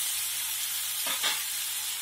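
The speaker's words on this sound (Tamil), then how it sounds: "இது கொஞ்சம் நல்லா தக்காளி கொஞ்சம் வதங்கட்டும்." Tomatoes sautéing in a pan while cooking a keerai tamarind masiyal, a steady moderate sizzle with a brief stirring scrape in the middle, close and continuous.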